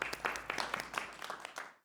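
A small audience at a researchers' meeting at the Medinaceli Ducal Archive claps for David, a brief, faint patter of hands that fades out and then stops.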